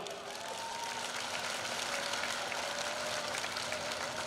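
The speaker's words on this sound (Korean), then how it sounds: "우리 세 분께 감사의 박수 부탁드리겠습니다" An audience at a Gyeongsangnam-do provincial sports festival ceremony applauds three guests: a soft, continuous patter of clapping with no distinct peaks, heard from a distance.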